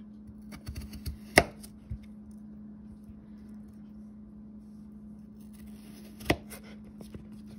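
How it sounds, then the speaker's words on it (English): Potatoes are quartered with a knife on a board: a quick cluster of faint taps, then one crisp close chop, a long quiet pause and another single sharp cut over a low steady hum. "Cut each in half and then half again."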